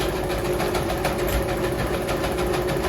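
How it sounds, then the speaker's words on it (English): Sewing machine running steadily while stitching along the edge of a cotton tee neckline, a continuous close motor hum and rapid needle patter with no talk. "sewing the edge"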